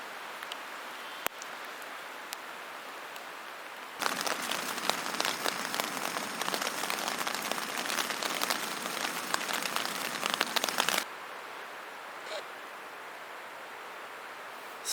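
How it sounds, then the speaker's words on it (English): Rain patters on a camping tent in the Vedungsfjällen mountains of Sweden, a dense, even hiss that swells loudly for several seconds before easing back to a faint drizzle. "It's raining."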